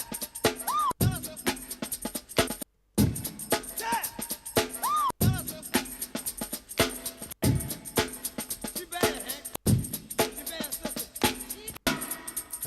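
A drum break sample for dubwise drum and bass played in repeating sections, punchy kicks and snares with crisp hi-hats in a tight funky rhythm, brief silent gaps between loops, loud and close with no voices.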